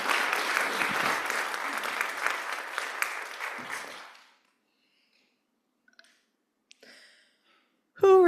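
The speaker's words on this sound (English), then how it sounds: "You can clap." An audience at a church service applauds with steady, dense clapping for about four seconds, then cuts off to near silence with a few faint clicks.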